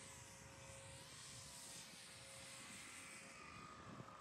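An E-Flite Extra 300 RC aerobatic plane flies overhead in crosswind, its electric motor giving a steady, fairly faint whine with a broad airy hiss that holds level throughout, no voices.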